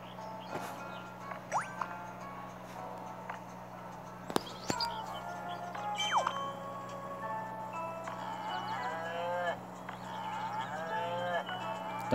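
Several video game cows in Townkins moo in turn over a steady low hum and faint background clatter, the calls drawn out and fairly close.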